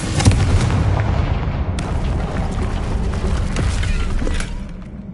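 A loud fire-spell explosion from the video game Hogwarts Legacy, a heavy booming blast with crackling debris and sharp bursts rumbling steadily for several seconds before easing at the end.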